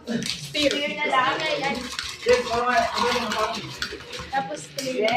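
A Rob Roy cocktail being stirred with ice, light clinking and tinkling of a spoon against glass as a person talks over it.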